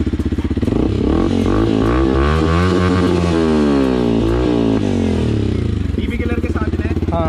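A motorcycle fitted with an aftermarket Akrapovic exhaust runs loud and close in Dehradun, its engine note rising and falling through revs in sweeping surges that ease off toward the end.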